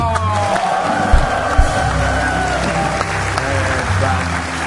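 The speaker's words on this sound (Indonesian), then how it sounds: "Keren, tepuk tangan dong." Studio audience at an Indonesian TV talk show applauding, a steady dense wash of clapping lasting several seconds with a couple of louder bursts, music faintly underneath.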